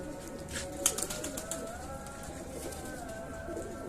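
Pigeons coo softly in the background, low murmuring calls against a faint ambient hiss, with a few light rustles and flutters early on.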